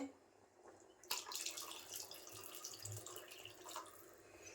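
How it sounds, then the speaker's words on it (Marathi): Water pours in a short splashing stream into a mixer jar, close and fairly quiet, lasting a few seconds. "हे मिक्सरच्या भांड्यात पाणी ओतून घेतलंय थोडंसं"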